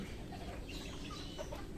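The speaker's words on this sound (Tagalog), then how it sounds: "share ko lang yung mga laga naming manok dito sa likod ng bahay" White backyard chickens cluck softly, a few scattered calls over a steady low outdoor rumble.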